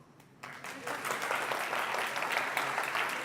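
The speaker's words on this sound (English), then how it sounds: "Give yourself a round of applause." Audience applause at an SAP NOW personal branding talk in Ljubljana, a dense wash of clapping that swells in after a brief quiet moment and holds steady and fairly close.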